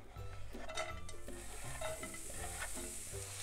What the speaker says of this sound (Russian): И обжариваю лук, помешивая до прозрачного состояния.